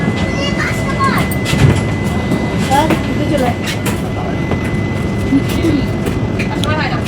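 The Haldibari–Kolkata Express rumbles steadily as it departs Bardhaman station, heard from inside a carriage, with a constant drone and faint chatter of passengers around.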